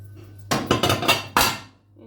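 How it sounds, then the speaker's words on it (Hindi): A spoon works coconut, sesame seeds and nuts together in a bowl, giving a run of close, loud scraping clinks and knocks over about a second, ending in one last sharp clatter. "इन सब चीज़ों को हमने चम्मच की मदद से अच्छी तरह से मिक्स कर लेना है इस तरह"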